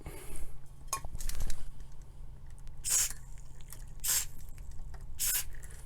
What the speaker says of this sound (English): you spray the stuff in and push the buttons later